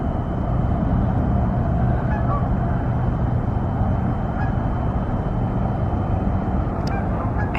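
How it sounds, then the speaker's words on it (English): A flock of Canada geese honks by a pond, scattered calls rising over a steady, loud wash of wind and background noise with no voices. "There's a bunch of Canadian geese out there."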